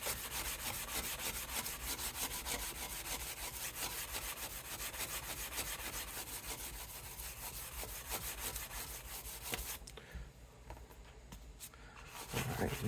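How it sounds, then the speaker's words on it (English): Continuous rhythmic scraping of a hand sanding block against a finished wood surface, fast back-and-forth strokes up close for about ten seconds, then a brief lull and a louder rub. "Sanding blocks coming in."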